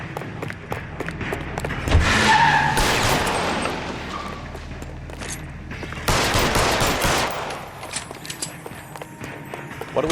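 Gunfire in the L.A. Noire video game, close bursts of shots with a skidding car and scuffing movement, loud at first and flaring again midway, under a game soundtrack bed.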